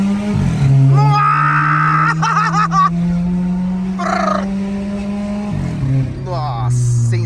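A Volkswagen Golf 1.6 MSI with a Tiptronic gearbox and an exhaust diffuser revs loudly with a sustained drone that rises and falls, with someone shouting excitedly over it.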